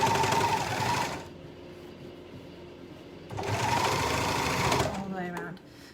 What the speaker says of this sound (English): I'm now just overlocking the edge